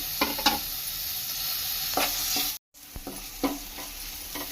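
Masala paste and tomato pieces fry in a pan with a steady, close sizzle, marked by several short scraping stirs and one brief moment of silence in the middle.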